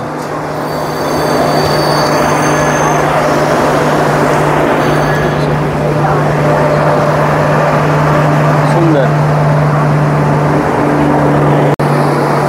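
The Mandovi Express rolls through Pernem station in Goa during the monsoon: a steady, loud rumble of wheels and carriages with a low hum throughout. A person speaks over the train noise.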